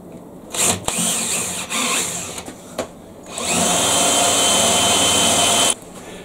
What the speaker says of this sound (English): we got a place to drill